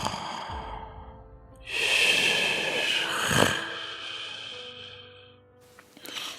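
A child snores loudly with a long, rough rasping inhale that swells and fades, followed by a quieter breathy tail and faint sounds at the end.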